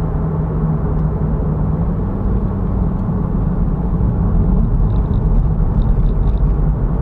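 Low, steady exhaust rumble of a C8 Corvette heard from inside the cabin while cruising, a continuous droning hum that fills the whole clip with no talk over it.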